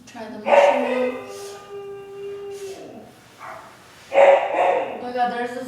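Two bursts of dog barking, one near the start and another after a pause, with a voice talking in between.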